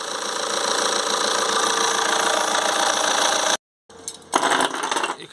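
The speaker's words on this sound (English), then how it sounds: "So we're going to start the engine, get it warm." A Vauxhall/Opel diesel engine idles steadily with a rough, even chug, cuts out abruptly, then comes back with clattering, uneven bursts.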